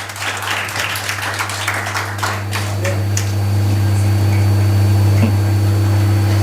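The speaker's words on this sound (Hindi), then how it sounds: "तालियां बजाते रहिए।" Audience applause at a certificate ceremony during a provincial selection competition, a brief burst of claps at the start fading into a loud steady hum.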